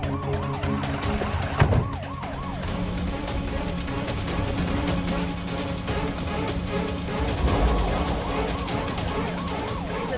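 A police car siren wails steadily through the scene of a Hindi web drama, its rising and falling tone sounding fairly close and loud, with a low rumble beneath and no speech over it.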